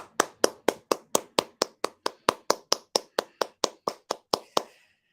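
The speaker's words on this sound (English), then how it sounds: "I want applause." One person claps their hands about nineteen times at a steady, even pace, each clap crisp and close, leaving silence after the last one.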